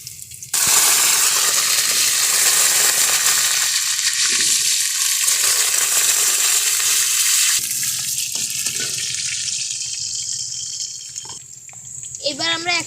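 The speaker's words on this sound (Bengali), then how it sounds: "এখন আমরা ওই পেঁয়াজ ভাজা তেলে আলুগুলা ভেজে নিব।" Halved potatoes frying in oil left from browning onions for chicken kachchi in a home kitchen, giving a loud, steady hiss that runs the whole clip and softens toward the end.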